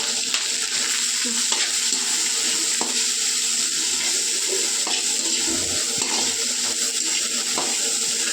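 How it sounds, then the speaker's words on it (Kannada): Capsicum, cabbage, onion and tomato fry in a pan for egg noodles, making a steady, dense hissing sizzle with occasional soft stirring taps, even in level and without speech. "ಕ್ಯಾಪ್ಸಿಕಮ್ ಮತ್ತು ಕೋಸು ಕೊತ್ತಂಬರಿ ಈರುಳ್ಳಿ ಟೊಮೆಟೊ ಎಲ್ಲ ಹಾಕಿ ಚೆನ್ನಾಗಿ ಫ್ರೈ ಮಾಡ್ಕೊಳ್ಳೋಣ"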